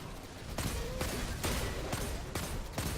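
Shotgun blasts in Destiny during a Pyramidion strike, a run of about six loud, punchy shots at a steady rhythm over continuous combat noise.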